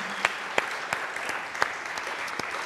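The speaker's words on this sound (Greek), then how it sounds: "Ένα χειροκρότημα για την Ηλιάνα μας" A studio audience on a night talk show claps for a guest, giving fairly faint, thin applause with a few sharp, distinct hand claps standing out near the microphone.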